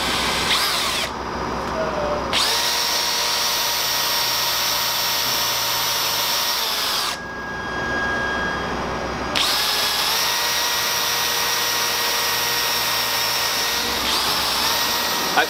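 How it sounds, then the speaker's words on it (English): A power drill whines loudly and steadily nearby, its pitch dipping as the bit bites into wood for a resin river desk, with two brief pauses between long runs. "take your drill bit, find the depth that you want to go to"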